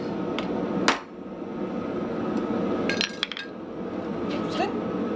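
A touch mark stamp struck with a hammer on a small baby anvil gives one sharp metallic clank early, then lighter clinks and taps over a low background rumble.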